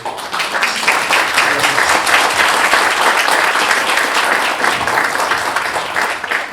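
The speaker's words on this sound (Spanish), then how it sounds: "Otro aplauso entonces para el expositor" Audience at a talk on family business management applauding the presenter, a dense, steady round of clapping, loud and close, lasting the whole few seconds.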